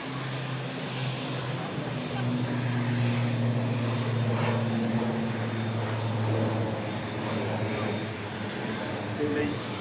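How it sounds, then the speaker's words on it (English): An airliner arriving from Jeddah after a six-hour flight sends a steady, broad jet roar with a low droning hum that holds loud and even throughout, with voices at times underneath. "This aircraft from Jeddah arriving in after 6 hours 12 minutes of flying time."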